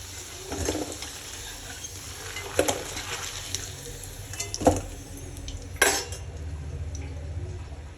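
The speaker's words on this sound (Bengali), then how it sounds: "তো আলুগুলো আমি তুলে নিচ্ছি।" Fried potatoes lifted out of a pan of hot oil, a low steady sizzle broken by several sharp clinks and scrapes of a utensil against the pan at uneven intervals.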